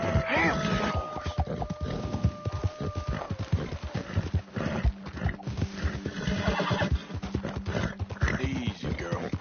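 A horse whinnies loudly up close, then snorts and shifts with clopping hooves and scuffling movement, while a person speaks over it.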